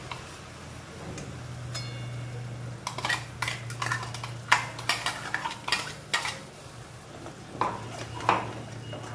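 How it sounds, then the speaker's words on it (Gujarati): A spoon stirs tomato puree into Mehsana-style Dungliyu, an onion dish, in a pan, making irregular close scraping taps and clinks against the metal over quiet background hum. "હલાવી લઈશું."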